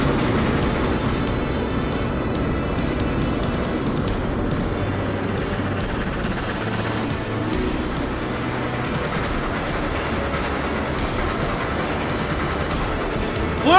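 A train in the Garry's Mod video game runs on without a break, a dense steady rumble and clatter that holds at an even level all the way through, with no voices over it.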